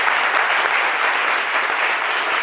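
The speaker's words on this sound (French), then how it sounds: "C'est à applaudir." A studio audience applauds on a French talk show, a thick even wash of clapping that stays loud and unbroken throughout.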